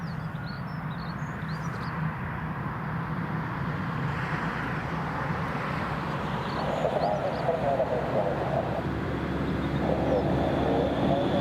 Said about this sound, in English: EasyJet A322 Bristol is taxiing as well.